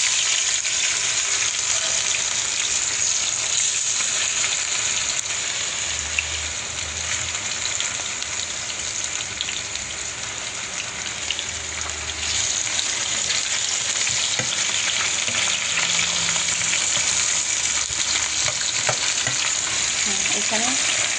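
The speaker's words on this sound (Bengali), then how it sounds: "এখানে পেঁয়াজটা লাল লাল করে হোক আগে ভাজা, একটু নাড়া দেব।" Onions frying in oil in a pan and stirred now and then, a continuous bright sizzle with occasional scraping and clinks, close and steady throughout, with no voices.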